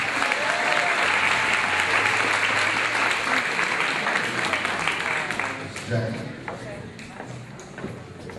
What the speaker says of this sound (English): Once again, let's give these students a round of applause.